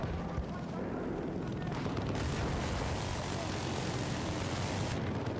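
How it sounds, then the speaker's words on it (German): Helicopter rotor and engine roar in a Battlefield 4 multiplayer match, a loud, dense, sustained wash of noise that swells and holds steady throughout, with no talk over it. "Oh, jetzt kommt der Heli."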